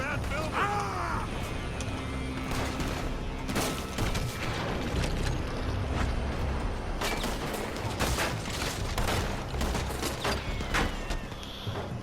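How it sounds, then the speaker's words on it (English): Gunmen shoot from a building in Red Dead Redemption 2, with repeated sharp shots and booming volleys across a tense firefight, some bursts closely clustered, under intermittent talking voices. "They're shooting from that building."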